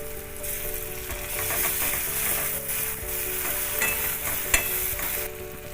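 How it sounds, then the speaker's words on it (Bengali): Green chili paste lands in a hot frying pan and sizzles, with the pan stirred and scraped. The sizzle is steady and close, and a few sharp clicks and taps of the utensil sound over it. "কাঁচা লঙ্কা বাটাটা দিতে ভুলে গিয়েছিলাম ওটা দিয়ে দিলাম"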